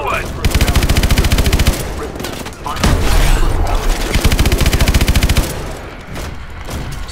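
Heavy gunfire fills a Call of Duty: Advanced Warfare boss fight, with loud rapid machine-gun bursts in long rattling strings, broken by booming impacts that could be swarm missiles, all dense and close.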